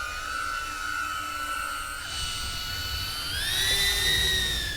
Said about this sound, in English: This drone is very loud and intimidating when you hear it.